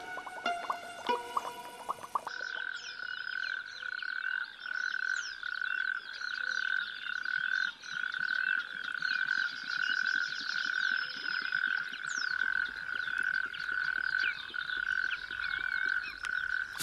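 Frogs croak continuously in a pond, a dense steady chorus of overlapping calls close by, with no voices over it.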